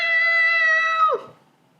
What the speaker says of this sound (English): One morning, Emma hears a sound outside her house. Meow! Meow!